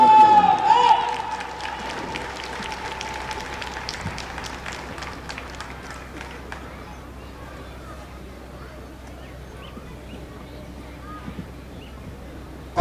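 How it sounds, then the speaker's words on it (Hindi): An audience at a CRPF passing-out parade in Rajgir claps for the parade commander, a dense burst of applause that is loudest at the start and thins out over several seconds, with an amplified voice over it early on. "तालियों की गड़गड़ाहट से स्वागत किया जाए"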